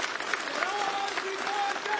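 A crowd at a political public meeting in Banikhet, Dalhousie, claps steadily, a dense continuous applause that sounds moderately close and carries a faint voice under it.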